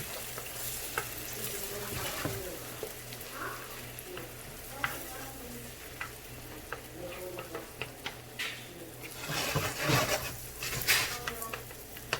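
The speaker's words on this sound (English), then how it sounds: "These are 4 eggs. Mix it nicely." Four eggs are beaten in a bowl for a masala omelette, giving quick, irregular clicks and taps of a utensil against the bowl that build toward a busier flurry near the end, close and without talk.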